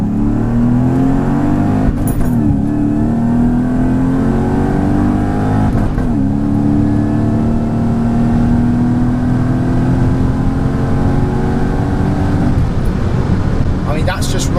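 Supercharged Mercedes-Benz E55 AMG W210 with a Kleemann supercharger and a misfire, its engine revving hard to the limiter through first, second and third gears; loud, continuous rising drone with brief drops at each gear change, close up.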